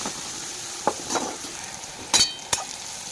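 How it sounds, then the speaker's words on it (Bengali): Yardlong beans cut into finger-length pieces fry with salt and turmeric in oil. A quiet sizzle runs under occasional stirring scrapes and a few sharp clinks of a utensil against the pan. "এই যে তেল দিয়ে বড়বড়িটা এক আঙুল বরাবর কেটে নুন হলুদ দিয়ে ভালো করে ভেজে তুলে নেব।"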